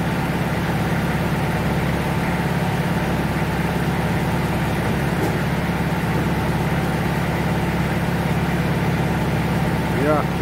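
The engine of a Malinau Express passenger speedboat, sluggish because debris has fouled it, idles and runs slowly in a steady, fairly loud low drone that continues unbroken throughout.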